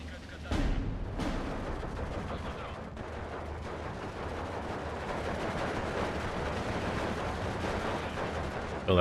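A battle in the video game Steel Division 2 sets off dense rumbling artillery and gunfire, with sharp blasts near the start and a constant roar of explosions after them, including 50mm mortar rounds.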